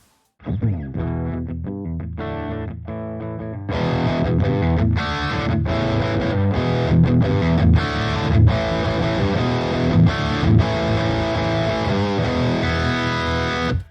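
Heavily distorted electric guitar through a Nunchuck PolyChrome DSP plugin in hot mode plays chords and riffs, thick and saturated, getting louder and fuller after a few seconds, with a lively, crunchy edge.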